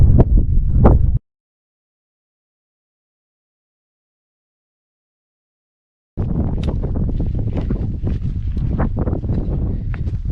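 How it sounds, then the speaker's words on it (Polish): Light wind sweeps across the open summit of Tarnica, a 1346 m peak in the Bieszczady mountains, buffeting the microphone in a short opening gust, then falling silent before returning as a steady rush for the final seconds. "lekko wieje, prawda tak do 10 na godzinę"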